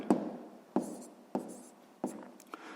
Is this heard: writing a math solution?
yes